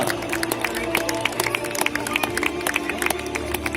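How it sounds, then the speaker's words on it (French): A crowd at a medieval festival knights' tournament in Rodemack, France, claps continuously, dense scattered hand claps with a murmur of voices underneath. "On peut applaudir bien fort nos deux chevaliers."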